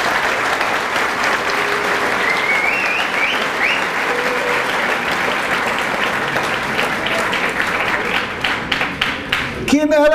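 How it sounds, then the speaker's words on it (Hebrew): Sustained loud applause from a large audience at a Torah study day at a pre-military yeshiva academy, dense clapping filling the whole stretch before thinning out at the end. "ובאמת מגיעות מחיאות כפיים סוערות לכל הגרעינים התורניים"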